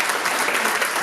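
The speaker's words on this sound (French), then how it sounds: "Applaudissez-le, je ne sais pas s'il est là." An audience at a political convention in France gives a brief burst of loud, dense, continuous applause.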